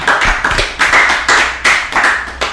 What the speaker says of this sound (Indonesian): Tepuk tangan untuk Bapak Raffi Kebab